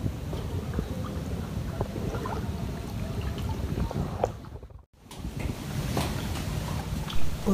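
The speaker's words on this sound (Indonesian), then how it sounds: "Di daerah sini emang anginnya memang agak sedikit ribut sih, memang sering kayak gitu." Strong wind blows steadily outdoors in a flooded area of Banjarmasin, a broad continuous rushing with gusts that briefly drop away near the middle before resuming.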